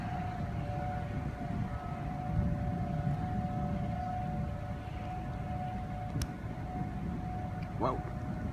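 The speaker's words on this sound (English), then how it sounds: "Hear the sirens?" A tornado warning siren sounds on Christmas Day 2015 in Bluff Park, a steady distant wail that holds throughout over outdoor background noise.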